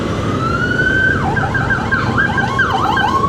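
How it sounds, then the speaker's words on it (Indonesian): A loud ambulance siren wails close by in morning rush-hour traffic in Yogyakarta, Indonesia, its tone sliding up and down in repeated sweeps over the rumble of road traffic. "aduh, ada ambulans"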